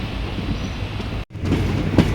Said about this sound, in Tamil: அது பார்த்தீங்கன்னா சென்னை எக்மோர் போகிற குருவாயூர் எக்ஸ்பிரஸ்